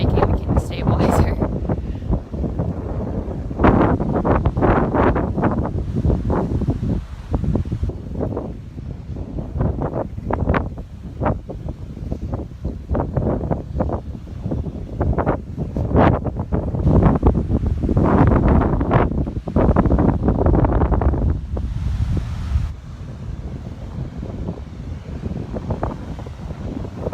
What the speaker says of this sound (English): It's super windy this morning, so my camera's gonna keep shaking because it's shaking the stabilizer.